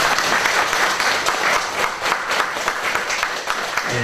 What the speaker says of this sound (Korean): 박수로 우리 강철민 목사님을 맞이하도록